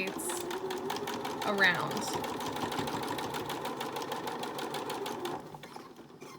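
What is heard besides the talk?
sewing machine stitching fabric face mask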